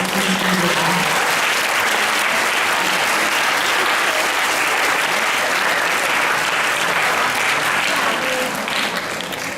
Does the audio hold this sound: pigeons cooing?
no